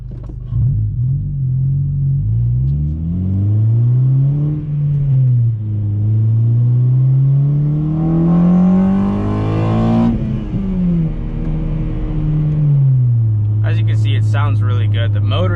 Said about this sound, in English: the VTEC sounds so nice and deep and throaty. It's just a really good noise to hear when you rev out the engine.